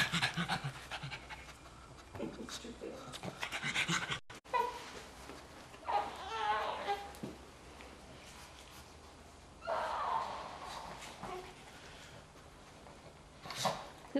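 A puppy pants in quick, breathy bursts close by, with snorts and sniffs between the bouts and faint voices in the background.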